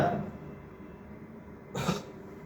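One short, forceful cough from a patient bursts out near the end after a faint breathy moment, close by and otherwise quiet, during a swallowing function assessment.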